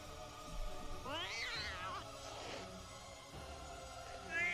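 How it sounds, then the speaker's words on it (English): In an anime episode, a cat gives a single rising-and-falling meow, moderately faint, over a busy background of music or ambience. "It was just a cat."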